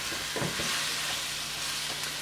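Vegetables for stew fish sauté in a pan with a steady, moderately loud sizzle and a couple of brief spoon stirs early on, close up and without talk.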